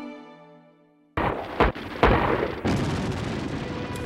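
Sudden loud bursts of gunfire and booms break a quiet musical tone, marking the outbreak of the Korean War, with sharp blasts followed by sustained rumbling noise.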